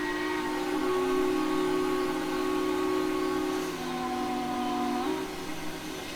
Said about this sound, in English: I believe that the whistle is recorded from one of the actual operational Willamettes that is, I believe, from the Mount Rainier Scenic Railroad.